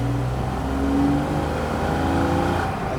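Porsche 911 Carrera with PDK gearbox revs up nearby, its engine note holding a steady, rising whir across the short stretch.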